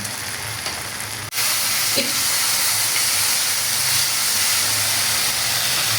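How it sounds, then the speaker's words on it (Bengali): Spice paste with turmeric and salt frying in oil for a vegetarian cauliflower and potato dish, a loud continuous sizzle and hiss up close, with a sharp knock early on and light stirring. "মশলাটারে ভালো করে আরে কষাই নিই"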